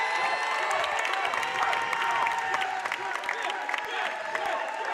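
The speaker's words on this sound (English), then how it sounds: "Gets a nice ovation from the crowd." A basketball crowd at an MDCC quarterfinal between Faith and SCA breaks into sustained applause and cheering, a dense, loud wash of clapping and voices that holds steady throughout.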